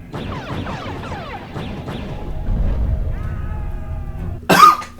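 A single sharp cough bursts out near the end, loud and close, after a stretch of quieter mixed background sounds.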